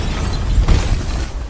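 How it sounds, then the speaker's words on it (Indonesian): An explosion of heated materials in an animated film, a loud low boom rolling out in a single dense burst with rumbling tail, no voices over it. "ketika bahan-bahan tadi dimasukkan dalam suhu yang panas seketika menjadi meledak"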